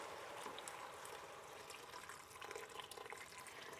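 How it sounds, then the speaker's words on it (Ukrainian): Hot water is poured into a pot of herring and cream soup, a soft continuous splashing trickle that stays faint and even throughout, with no talking over it. "Я заливаю гарячою водою."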